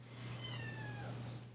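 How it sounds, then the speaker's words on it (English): Small kittens meow faintly, a few thin rising cries over a steady low hum in a room. "But if you hear meowing in the middle of my stream"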